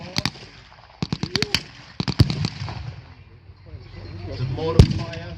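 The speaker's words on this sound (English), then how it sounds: "There's a mortar fire." Sharp cracking reports from mortar and field guns at a staged frontline battle reenactment in Sedgefield, coming in quick clusters with a heavier thump near the end, over a low background rumble.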